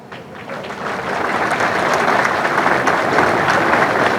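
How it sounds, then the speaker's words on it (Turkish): Loud, sustained crowd applause at an outdoor electric toy car distribution event in Kayseri, building up over the first second and then holding dense and even. "bu kadar alkış mı olur ya?"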